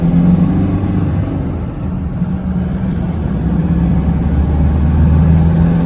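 A lifted 2006 Toyota Vigo pickup with a 3.0-litre turbo engine drives along, its low engine rumble steady and close throughout, swelling slightly toward the end.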